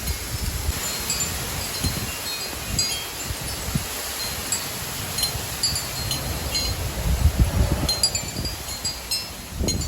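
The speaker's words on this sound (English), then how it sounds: "So yeah, let's see this strong wind." Strong wind roars steadily through trees during a windstorm, with rustling leaves and low gusty rumbles buffeting the microphone, swelling louder near the end.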